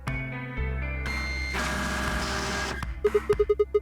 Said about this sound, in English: The audio data must have been transcoded into something else. It's like old dial-up.